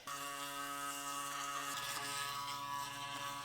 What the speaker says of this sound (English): And then I have an IO Oral-B toothbrush.